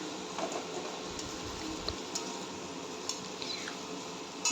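Chopped onion, tomato and ginger frying in a pan, a steady soft sizzle with occasional light scrapes and stirring clicks throughout.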